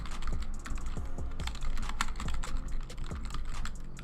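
Keys clatter on a computer keyboard while keywords are entered, a fast, close and uneven run of clicks with no voice over them.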